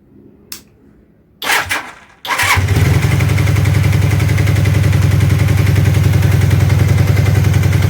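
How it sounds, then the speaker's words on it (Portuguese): A Honda CB400 motorcycle with a cam chain noise fires up after a couple of sharp bursts, then settles into a loud, steady, close-up idle with a rapid mechanical ticking running through it. "Olha o barulho da moto."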